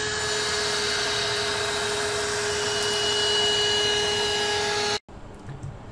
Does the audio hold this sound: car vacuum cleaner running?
yes